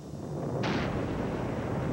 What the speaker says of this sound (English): An explosion from stored propane gas sends a plume of smoke 200 feet in the air